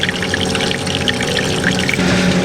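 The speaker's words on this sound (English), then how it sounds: "Okay, got some water going." Water running on a sailboat anchored out near a full marina, a steady continuous trickling pour heard up close and fairly loud, alone with no talk.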